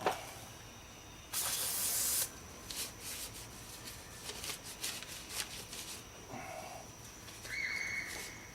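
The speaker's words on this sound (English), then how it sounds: "I'll take me some carbon choke cleaner and clean that off where the paint is fixed to it" Short hissing bursts of carbon and choke cleaner sprayed onto a painted part, one strong blast followed by scattered fainter spurts and rustling, quiet and close, with no talking.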